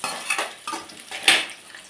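Fenugreek and onions sautéing in a pan as bitter gourd stir-fry is cooked, with a few quick spoon scrapes and clinks over a soft sizzle, close and fairly faint.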